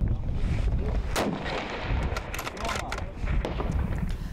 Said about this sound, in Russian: Судьи дают команду, стрелок открывает огонь.